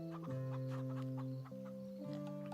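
Chickens clucking in the Farm Together 2 farming game, a steady run of bird calls with sustained tonal harmonics over a soft music bed, close and continuous throughout.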